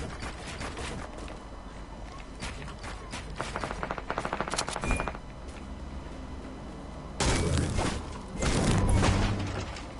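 Gunfire in a shooting video game, with bursts of rapid automatic shots and a few heavier booming volleys against a busy background, loud and close.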